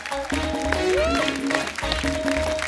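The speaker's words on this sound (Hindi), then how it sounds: "एक बार जोरदार तालियां अनुपम सर के लिए" A studio audience claps to welcome a guest onto a talk show stage, with sustained clapping mixed with music and some voices.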